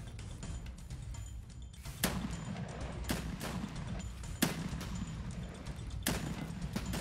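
Gunfire rings out in the video game Escape from Tarkov: several sharp shots at irregular intervals, moderately distant, over a low steady background.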